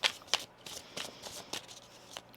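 Tarot cards shuffled by hand in a quiet room, a series of soft crisp riffling bursts and flicks, about half a dozen in quick succession, close and fairly faint.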